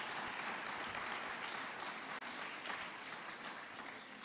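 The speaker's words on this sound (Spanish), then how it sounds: "si van a aplaudir al Señor, fuerte" Sustained applause from a church congregation during a sermon, a steady dense wash of many hands clapping throughout with a brief dip midway, fairly distant and uniform.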